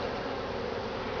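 Dense, steady buzzing of many honeybees at an open hive during inspection, close and continuous with no other sounds.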